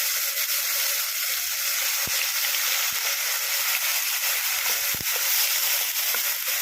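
Onion, ginger and garlic paste sizzling loudly in a hot oiled pan while making egg korma, a dense, steady broadband hiss with a few light knocks of a spoon, close and continuous.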